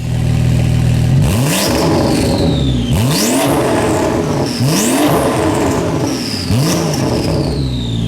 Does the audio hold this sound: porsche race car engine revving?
yes